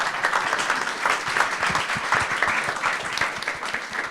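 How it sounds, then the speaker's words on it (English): Audience applause from a panel-event crowd, a steady burst of many hands clapping at moderate loudness throughout. "Round of applause."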